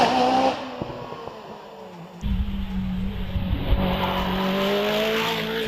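A GR59 hillclimb race car with a Hayabusa motorcycle engine and shaft drive races a Prescott hill course. A high engine note fades away, then a loud, close rasp surges back with tire noise as it accelerates.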